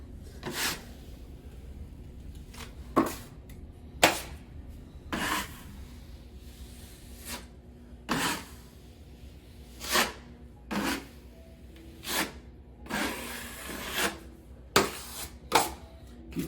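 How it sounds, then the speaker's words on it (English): A metal drywall knife scrapes and smears joint compound across a drywall patch in short separate strokes, each a brief rasping swipe with quiet gaps between, close by. "So putting a little bit more compound on it."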